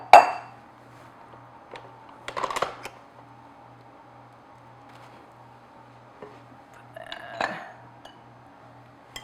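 Dishes and bowls of bran muffin ingredients are moved about on a kitchen counter. Sharp clinks and knocks come in a few separate bursts against a quiet background hum.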